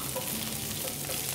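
Whole red chillies and curry leaves tempering in hot oil for a Deccan chicken curry, giving a steady, close crackling sizzle with faint stirring throughout, no voices.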